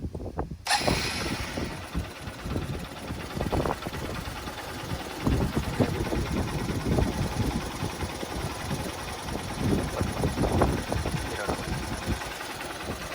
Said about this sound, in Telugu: ఇంజన్ యొక్క సౌండ్లో కూడా మనకి నాయిస్ తెలుస్తూ ఉంటుంది